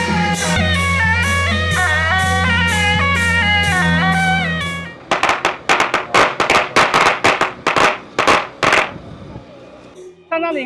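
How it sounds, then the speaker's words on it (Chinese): A long string of firecrackers crackles in dense, rapid bursts at a Taiwanese temple procession for Baoyi Dafu, first as a continuous loud roar, then breaking into separate sharp bangs that trail off near the end. "刚刚放完鞭炮"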